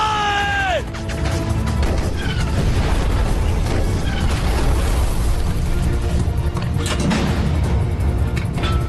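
Tank cannon fire and explosions in a Pakistani war film: a sustained, loud roar of blasts and crashing debris, opening with a falling whistle-like tone, all dense and continuous throughout.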